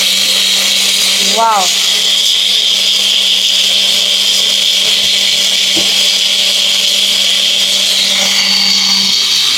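A small magic blender grinds lentils in one continuous, loud motor whine held steady for the whole stretch, with a person's brief exclamation over it.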